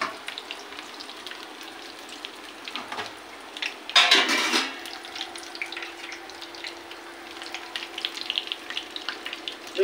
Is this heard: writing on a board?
no